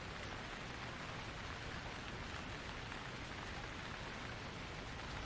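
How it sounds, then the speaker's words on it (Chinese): Light rain falls steadily on outdoor surfaces, giving a dense, even patter that stays constant and fairly soft for the whole stretch, with no voices or other events. "已经不怎么下雨了，没必要打伞吧？"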